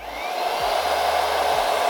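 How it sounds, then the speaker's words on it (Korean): A Glampalm hair dryer blows with a steady whooshing roar while its on/off button is pressed, the airflow shifting briefly at each press, loud and close with no talking. "이 글램팜 드라이기 같은 경우에는 온오프 기능이 버튼을 좀 누르고 있어야 돼요"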